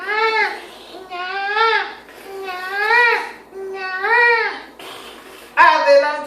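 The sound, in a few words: person imitating a crying baby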